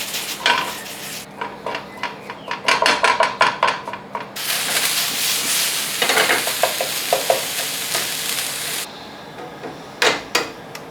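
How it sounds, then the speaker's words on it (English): Food frying in a pan on a stove, a loud broadband sizzle that swells and drops, broken by repeated stirring scrapes and clinking utensils against the cookware. "I'm going to get this on the pan and I will catch you all when it's done."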